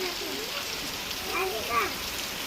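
Steady rain falls outside as an even, close hiss of drops, while a voice talks over it in the foreground.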